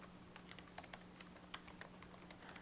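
Quick bursts of typing on a computer keyboard, with irregular clicks close to the mic over a steady low electrical hum.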